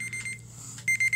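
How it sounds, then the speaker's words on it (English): The round timer alarm in the Minecraft Build Battle video game rings as a rapid electronic beeping in short bursts with a pause partway through, loud and alone. "There's the timer."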